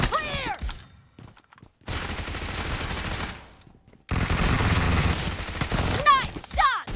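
Gunfire in PUBG Mobile arena team match, long rapid automatic bursts, loud and close, separated by short pauses, with a voice and game sound effects in between.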